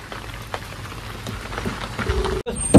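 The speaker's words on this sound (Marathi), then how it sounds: "पाऊस आलाय" Steady rain falls outdoors with a constant broadband patter, loud and close, ending in a brief gap and a louder knock, with no talk.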